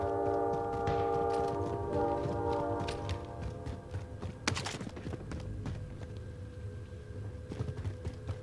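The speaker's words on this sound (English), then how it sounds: "Train!" Rumbling video game train rolls past with sustained droning tones and rhythmic clacking, loud at first and then easing slightly as it continues.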